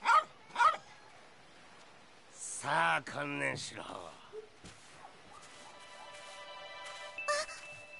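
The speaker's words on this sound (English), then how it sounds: "this dog a friend of yours?" A dog barks in the video game Yakuza 3: two sharp yips at the start, then a rougher burst of barking and whimpering midway over game ambience and music, with a voice speaking in between.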